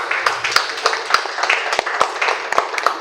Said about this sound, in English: Please give applause to Dr.